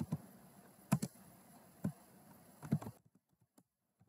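A few scattered keystrokes on a computer keyboard as a new patient name is entered in dental scanning software. The taps are quiet and close in an otherwise silent room, and they stop after about three seconds.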